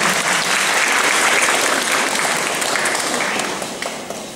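Loud, thick applause fills a hall at a Polish Way of the Cross event, a continuous wash of many hands that holds steady and then gradually tapers off.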